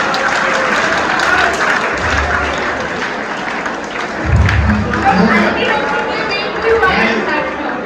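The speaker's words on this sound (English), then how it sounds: "I want you all to clap for them" Students at a school career fair clap for their teachers, a broad crowd applause mixed with loud chatter and voices, swelling briefly midway and staying busy under the talk.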